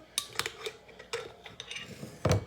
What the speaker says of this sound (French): je mets mon mélange, je le dépose dans le bol